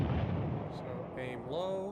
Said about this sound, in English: we're going to get ready to shoot this guy